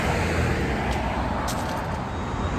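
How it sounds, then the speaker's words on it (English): Street traffic flows along Yonge Street in Toronto, a dense and loud continuous roadway roar of passing cars and heavier vehicles that stays steady throughout, with no voices. "I don't know if you can hear me above the traffic."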